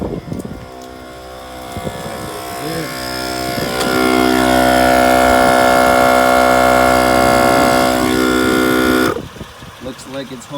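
Air compressor pump droning loudly and steadily while refilling a patched tire on a 2009 Acura MDX at the roadside. The tone rises and holds for several seconds, then cuts off sharply, with someone speaking before and after.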